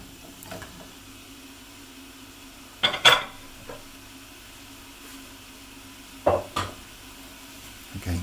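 Potatoes are gently stirred into a vegetarian sausage and bean casserole in a pot over medium-low heat: a couple of faint scraping spoon strokes stand out over a quiet, low background hum, with no talking.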